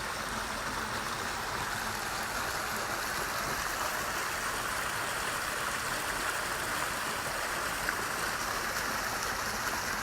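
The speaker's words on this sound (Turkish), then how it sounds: "İşte alt taraflarda bu gözlerden işte taşların altından su, su, su sesini duyuyoruz" Spring water trickles out from under stones at the İvriz source, running low during a drought. It makes a steady, continuous wash of rushing water with no voices.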